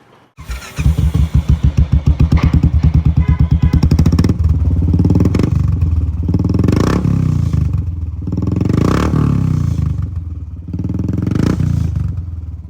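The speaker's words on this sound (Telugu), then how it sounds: "ఎగ్జాస్ట్ నోట్ అయితే ఇప్పుడు వినండి" A modified Royal Enfield Bullet single-cylinder motorcycle starts up and settles into a loud, deep, thumping exhaust beat, with a few throttle blips rising and falling close by.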